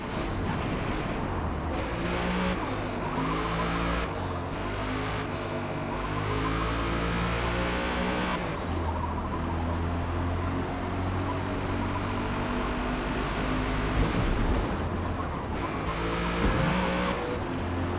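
A race car roars through a qualifying lap in the video game Forza Motorsport, its engine revving up and down continuously with shifting pitch and bursts of tire squeal, loud and close throughout.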